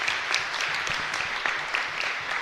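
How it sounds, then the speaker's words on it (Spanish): Church congregation applauding together during a parish novena to the Virgin of Fátima, a steady dense clatter of many hands clapping throughout, fairly close and even in loudness. "Y un fuerte aplauso para el Señor."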